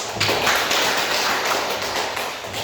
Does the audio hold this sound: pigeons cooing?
no